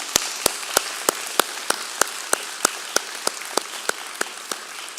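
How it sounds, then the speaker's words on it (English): Slow, isolated claps ring out at a commencement ceremony, about fifteen sharp evenly spaced hits over a soft background hush, moderately distant. "would you please join me in giving a round of applause to that support from your family and friends?"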